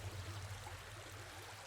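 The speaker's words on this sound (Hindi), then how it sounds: "पानी की आवाज लगती है।" Steady flowing water, like a nearby river or waterfall, a constant low rushing wash at moderate level that fills the whole moment without any voices.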